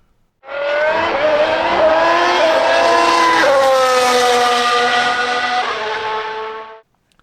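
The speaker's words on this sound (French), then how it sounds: "mesdames et messieurs, démarrez vos moteurs. C'est un départ." Formula 1 race cars roaring off the start of the Tuscan Grand Prix, a dense, loud wall of high-revving engines with rising and shifting pitch sustained for about six seconds, no talk.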